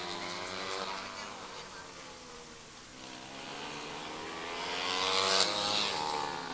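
Oval racing karts run laps around a Southern California track, their engines a steady, fairly distant buzzing drone that swells toward the end as the pack passes closer.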